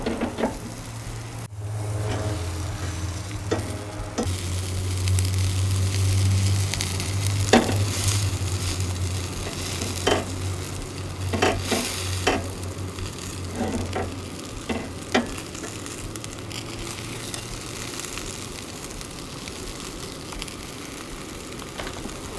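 A kelp burger patty sizzles in a pan after being flipped. A low hum runs under the first part, and scattered clicks and scrapes of a spatula break up a moderate, steady frying hiss.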